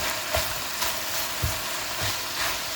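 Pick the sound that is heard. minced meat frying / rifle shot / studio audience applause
minced meat frying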